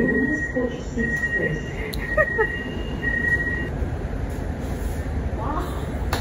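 Steady rumble of a Kajang line MRT metro train in Malaysia, heard from inside the carriage, with a chime and an automated station announcement over the constant running noise.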